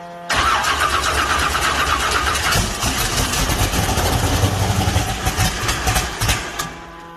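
An engine fitted with Tornado fuel injection cranks and catches, then runs loud and close with a rough, uneven roar that fades near the end.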